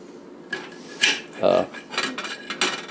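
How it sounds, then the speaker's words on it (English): A knife cuts up fresh ginger on a board, producing a short series of sharp chopping knocks and clicks, about five irregular strikes close to the listener. "So you cut it up just like you cut up garlic."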